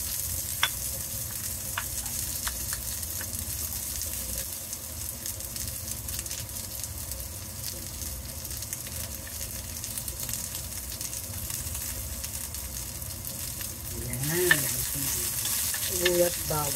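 Onion, then garlic, sautéing in a pan for ginisang monggo makes a steady, close sizzle with occasional spatula stirs, and a louder scraping flurry comes near the end.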